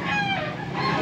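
A black Hennie rooster crows, one loud close cry with rising and falling harmonic tones filling the short moment, with no talk over it.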